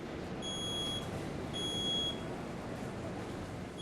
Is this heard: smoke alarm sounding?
yes